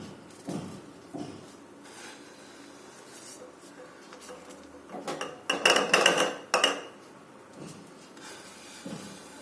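A hot jaggery and flaxseed chikki mixture is scraped out of a pan onto a plate, producing quiet intermittent scrapes followed by a louder cluster of metallic clanks and clatter from utensil and pan near the end.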